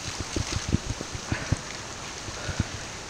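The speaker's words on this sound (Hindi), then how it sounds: "यहाँ पर देखो और एक ऐसे पानी गिर रहा है" Water falling from rocks at an outdoor bathing spot, a constant splashing wash with irregular low thumps and spatters of drops hitting the surface, fairly loud and close, with no one talking.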